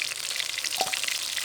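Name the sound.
fish frying in oil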